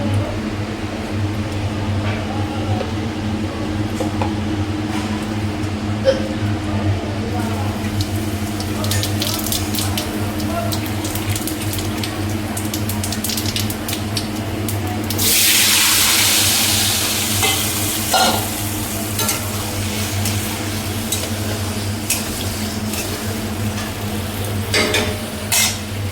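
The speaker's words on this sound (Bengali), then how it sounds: "তখন চিমনি চলছিল জন্য আমি কথা বলতে পারছিলাম না" A kitchen chimney exhaust hood runs with a constant low motor hum beneath the frying and occasional stirring of a chicken dish, and a louder rushing hiss swells midway before settling back.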